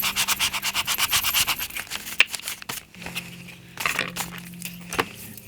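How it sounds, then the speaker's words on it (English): Sandpaper rubs a paper sticker on a craft journal insert in quick, rhythmic scratchy strokes, close and crisp, then slower intermittent rubs with small crinkles and taps. "so just sanding it a little bit"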